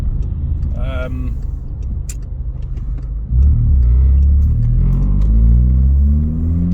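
A car engine idles with a deep, throaty exhaust rumble, then revs up louder and holds a steady roar; a person speaks briefly near the start.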